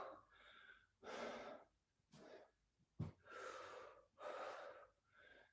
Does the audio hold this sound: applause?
no